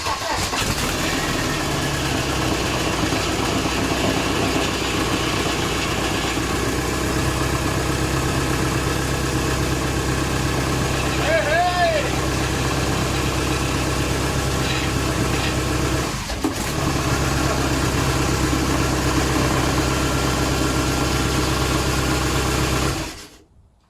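A VW TDI diesel engine, out of the vehicle and running on a garage floor before installation into a T25 camper, idles steadily with a low, even rumble, close and loud, holding the same tone throughout before cutting off at the end.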